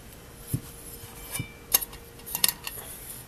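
A heavy stainless steel alcohol stove, a large pop-can style burner, handled beside a pot, giving a few sharp metallic clinks and taps scattered over a quiet background, close and fairly soft.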